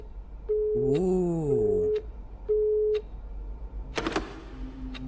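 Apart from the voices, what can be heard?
telephone busy signal during a phone call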